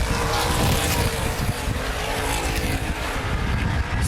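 Sprint cars race at Baer Field Speedway in a 2011 Hoosier Outlaw Sprint Series event, a loud continuous roar of engines sweeping past with a dense droning rumble that barely dips.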